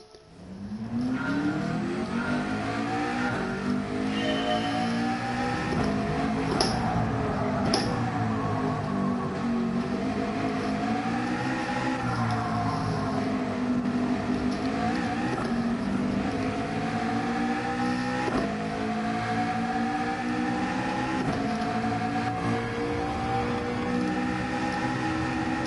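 A car engine drones steadily in a racing video game, its pitch rising and falling with shifts and throttle changes. It sounds loud and close for the whole stretch, with no talking.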